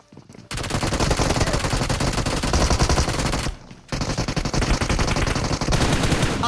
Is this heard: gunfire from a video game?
yes